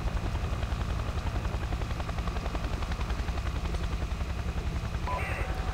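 A military helicopter in the Project Reality game, its rotor beating in a fast, steady, loud chop with a deep engine drone, continuous and close.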